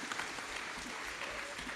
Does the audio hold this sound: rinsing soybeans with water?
no